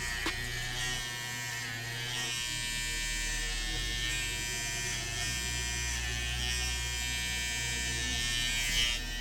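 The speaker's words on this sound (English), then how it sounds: "Let me put in the line on the back of my head using my trimmer." An electric hair trimmer buzzes steadily and close while cutting a line across the hair on the back of a head, its pitch shifting slightly as it presses against the hair, with no talk.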